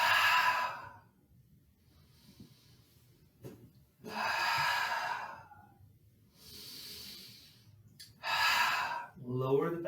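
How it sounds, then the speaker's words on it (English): Deep, slow breathing during a stress-relief yoga stretch, with long audible inhales and exhales in separate bursts split by quiet pauses, close and fairly loud. "Take some nice, long, deep breaths."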